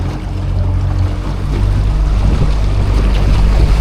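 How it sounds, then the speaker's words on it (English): Boat motor idling steadily while warming up, a loud close low rumble with wind and water noise, growing a little stronger partway through. "Just letting the motor warm up here a bit."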